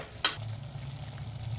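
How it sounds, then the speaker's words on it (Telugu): Ground masala frying in oil over a low flame, a soft, steady sizzle heard close, broken once by a sharp tap of a spoon against the pan. "నూనె తేలే వరకు బాగా ఫ్రై చేసుకోవాలండి."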